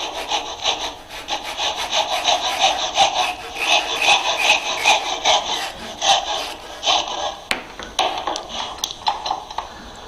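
Hand saw cutting timber for a dovetail joint, a close run of rhythmic rasping strokes that slows into a few final strokes and taps.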